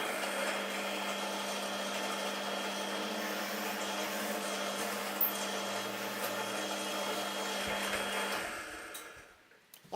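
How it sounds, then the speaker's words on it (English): A power drill bores into jarrah wood, giving a steady, loud motor whine with a grinding edge for about eight seconds before it winds down and stops. There is no talking. "You'll see I backed out the drill bit a couple of times during the drilling process."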